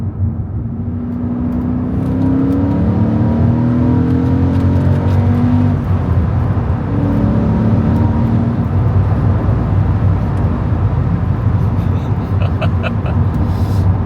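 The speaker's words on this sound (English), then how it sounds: "V8 hand-built AMG engine." A Mercedes SLK55 AMG with a hand-built 5.5-litre V8 revs and pulls hard, a loud close engine roar rising in pitch through repeated climbs, sustained for the whole stretch.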